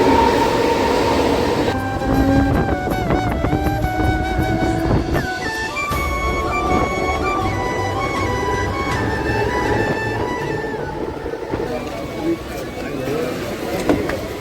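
A Mumbai local train at Sion station rumbles and clatters nearby with a steady loud roar of rolling wagons and some squealing, while a person talks over the noise.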